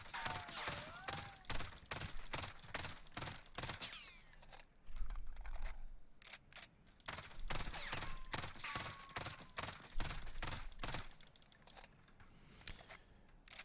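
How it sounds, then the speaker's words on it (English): FR 5.56 rifle fire in the Warzone video game, with sharp three-round bursts in quick succession followed by longer full-auto strings emptying the magazine, loud and punchy with brief gaps between volleys and no talk over it. "First with the 3-round bursts, and then we're going to look at sort of emptying out the mag as quick as we can."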